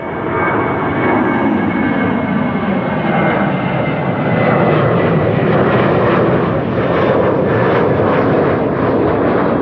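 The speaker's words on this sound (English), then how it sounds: "Seven 737 taking off to Barcelona, Transavia." A Transavia Boeing 737 takes off at Amsterdam Schiphol Airport, its jet engines making a loud, steady roar that fills the whole stretch.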